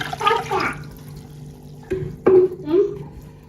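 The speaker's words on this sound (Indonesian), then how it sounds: "kemudian tambahkan 800 ml air" Water runs and splashes into a taro-flavored pudding mixture made with pop ice powder, a short pour with a few gurgling bursts that rise and fall over a couple of seconds.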